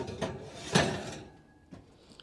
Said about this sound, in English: Should we open the oven door